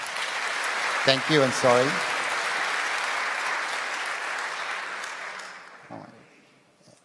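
An audience at the NG-DE Berlin 2025 conference applauds for a presenter, producing a loud, steady wash of clapping for about five seconds before it tapers off. A speaker's voice is heard briefly over the clapping.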